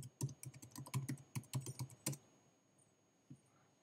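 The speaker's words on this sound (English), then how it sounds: "we can just type in the website we want to go to" Keys clack on a computer keyboard in a quick, irregular burst of crisp taps, close and quiet, then fall silent apart from one final tap.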